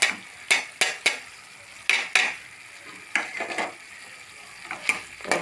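A spatula scrapes and stirs cluster bean lentil usili in a pan, making sharp, close clacks in quick bursts with brief quiet sizzling between them.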